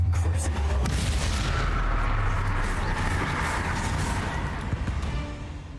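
Spell explosions from Confringo in the video game Hogwarts Legacy boom and crackle in a dense, continuous barrage of blasts and impacts, loud and close.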